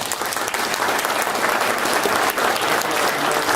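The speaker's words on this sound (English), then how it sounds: "give a round of applause to our panelists" Loud, dense applause from a seated audience thanking a panel of consulting foresters, a continuous roar of many clapping hands with no break.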